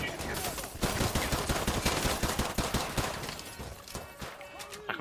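Gunfire in Modern Warfare 2, rapid dense shots rattling almost continuously at moderate loudness, thinning out toward the end.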